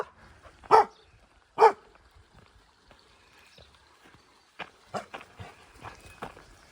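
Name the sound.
excitable dogs barking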